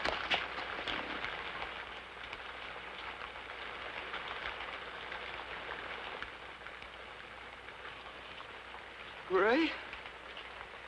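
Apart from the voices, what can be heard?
rain falling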